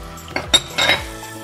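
Red peppers and sliced onion dropped into a pan of hot oil, ghee and melted butter for homemade shawarma give a few close, sharp clatters and clinks of pan and utensil, with a faint sizzle beneath.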